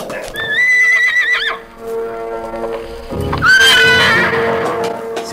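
A handsome black horse whinnies loudly twice, long shrill neighs separated by a short pause, with clopping hooves underneath, close and dramatic, like a radio drama sound effect.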